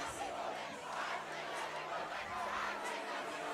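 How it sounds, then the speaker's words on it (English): High school football crowd rallying in the stands, a dense mass of shouting and cheering voices with chatter, loud and continuous. "So this RV crowd is rallied up and ready to go here again."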